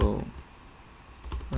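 A computer keyboard is typed in a few quick clicks, close and fairly soft, with a short quiet gap between the opening and closing keystrokes.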